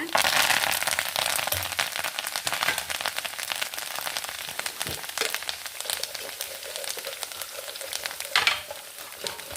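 Steady, dense sizzling of tempering spices and neem leaves frying in hot ghee, continuous crackle throughout with a brief louder burst near the end.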